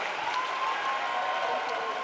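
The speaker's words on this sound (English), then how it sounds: "Give our panelists a big round of applause." Audience applause for a group of panelists, a dense steady wash of clapping from a crowd, moderately loud and continuous throughout.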